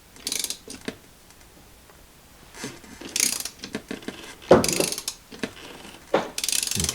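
Ratchet wrench fitted with a deep socket clicks in short bursts while working on a Mercruiser Alpha One sterndrive, close and sharp with pauses between strokes and no talk.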